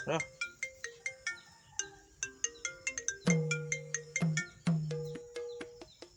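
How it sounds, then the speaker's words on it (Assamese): A mobile phone ringtone plays a bright, chiming melody of repeated electronic notes, close and clear, with no talking. "ফোন আহিছে"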